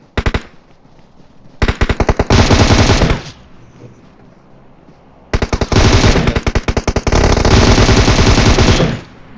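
An M762 rifle in PUBG Mobile fires a few quick shots, then two long, loud automatic bursts separated by a short pause, close and without talk.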